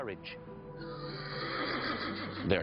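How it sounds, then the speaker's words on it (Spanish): A horse gives a loud, drawn-out neigh up close. The whinny rises and wavers for about two seconds and ends in a breathy snort. "Filoneico de Tesalia llevó a Filipo un caballo llamado Bucéfalo"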